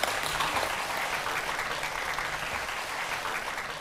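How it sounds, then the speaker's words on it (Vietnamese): Studio audience applause on a Vietnamese dating show, a steady crowd of hands clapping at moderate loudness, continuous and even, with faint background music underneath and no speech. "vỗ tay cho bạn Kiệt"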